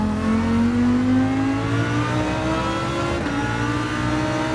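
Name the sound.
Lamborghini Huracán GT3 race car accelerating, from a racing video game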